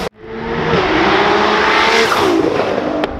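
A Mitsubishi Evo with over 800 horsepower at the wheels and a Nissan R35 GTR with over 1300 horsepower at the wheels rev hard. Their engines roar loud and close in one sustained blast of about three seconds.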